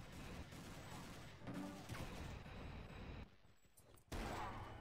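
Gunfire in the 2D shooter Soldat crackles through dense, loud game noise, with rapid shots and bursts packed together and a brief lull before a final loud hit.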